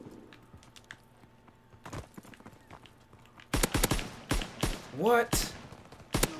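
Gunfire crackles in a shooter's gun game match, sparse sharp shots at first, then a dense rapid burst of close, loud shots, with a brief spoken word among them.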